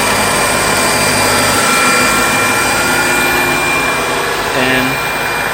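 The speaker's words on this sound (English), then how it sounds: "Here we have the car running. New belt in, and the alternator is doing its thing." A Mercedes W220 engine, fitted with a new alternator and belt, runs in a steady, loud broadband drone that stays close for the whole stretch, with a brief tonal whine near the end.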